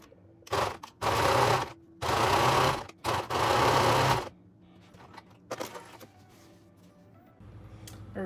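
A home sewing machine stitches in several bursts, one short and then three longer runs of about a second each, with a rapid mechanical whir, close and fairly loud, followed by quieter handling clatter.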